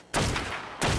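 Gunshots fired at a dinosaur in the video game ARK, two sharp, loud blasts about two-thirds of a second apart, the first trailing off in a brief rumble.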